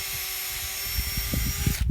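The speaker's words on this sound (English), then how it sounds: "Now she's going to drill a hole again." A power drill whines steadily as it bores a hole during the restoration of a 120-year-old stone ruin in central Portugal, with thumps and knocks under the drilling before it stops near the end.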